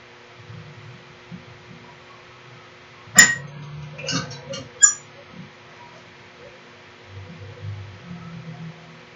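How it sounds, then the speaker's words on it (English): A wheel under a T-shirt screen printing press squeaks a few times in quick succession, brief and fairly faint high chirps, in an otherwise quiet workshop with a low background murmur. "the squeaking sound you hear is that wheel under there"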